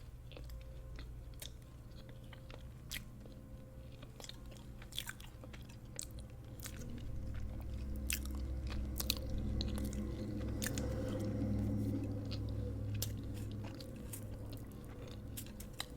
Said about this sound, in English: Okay, I had to take another bite because wow.